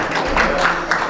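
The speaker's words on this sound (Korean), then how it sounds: "박수로 한번." A brief burst of audience applause in a church, a dense, even patter of many hands clapping close by, with no voices over it.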